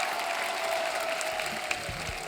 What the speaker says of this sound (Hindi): एक बार जोरदार तालियां हमारे मेहमानों के लिए हो जाए